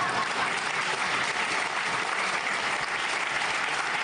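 An audience at a political speech by François Bayrou in 2012 breaks into steady, sustained applause, moderately loud and even, with no voices standing out above the clapping.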